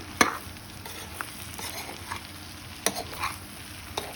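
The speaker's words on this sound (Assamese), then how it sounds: "এতিয়া লৰাই দিম ভালকৈ" Fish intestines frying with brinjal in a pan sizzle softly while a utensil stirs, with a few sharp scraping clicks against the pan over the faint steady frying hiss.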